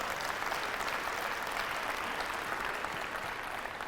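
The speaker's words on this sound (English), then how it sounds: "Give yourself a round of applause if you're going to step up" A keynote audience at Jackson State University claps together, a fairly faint, even wash of applause that holds steady throughout without voices.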